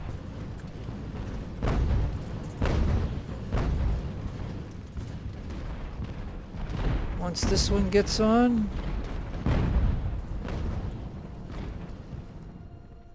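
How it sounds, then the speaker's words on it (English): Heavy cannon fire in the naval strategy game Ultimate Admiral: Age of Sail, with several deep booms spaced a second or two apart and a rumbling volley midway, heard under someone talking. "Alright, so I got those 2 cannons, so we're gonna start hitting them."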